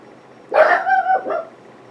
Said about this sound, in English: That's just Hensley the dog